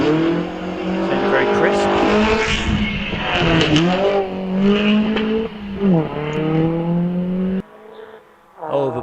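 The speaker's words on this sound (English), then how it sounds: "waiting for the Riley to leave the start, and away it goes. Sounds very crisp." A Riley race car pulls away from a hillclimb start at Wiscombe Park, its crisp engine rising through several loud upward revving sweeps between gear changes before fading, with a commentator talking over it.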